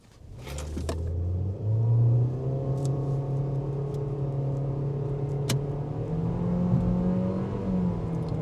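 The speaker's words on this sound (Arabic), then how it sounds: "يلا بينا نشوف التسارع بتاع العربيه" A 2023 Nissan Sunny N18 sedan accelerating hard from a start with traction control and air conditioning off, engine droning loudly from inside the cabin, revs rising steadily with a brief dip at a gear change, no speech.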